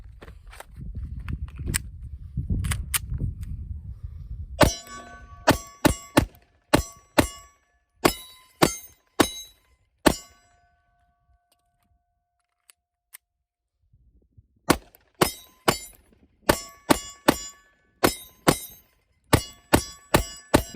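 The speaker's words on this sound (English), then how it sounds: "Let's see what happens if I try to hit that round again." Handgun dry clicks and sharp metallic clacks as the firearm is cycled and the hammer strikes a round's primer again, a series of crisp close snaps in irregular bursts with quiet gaps between.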